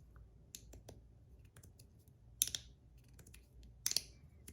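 Miami Vise Beatrix magnetic fidget slider with extra-strong magnets clicking, with a run of faint, scattered close-up clicks and two sharper, louder snaps, and no talking.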